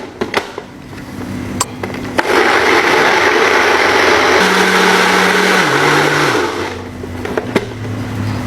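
A kitchen blender grinds green chili spice paste for an Indonesian duck curry, a loud steady whirring that spins up, holds for several seconds with its pitch dipping as the load shifts, then winds down, with a few clicks before and after.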